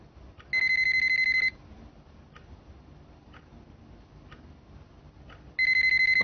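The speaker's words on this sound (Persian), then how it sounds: "تلفنتون زنگ میخوره ها" A telephone rings in two loud, bright electronic bursts about five seconds apart, with a faint ticking clock in a quiet room between them.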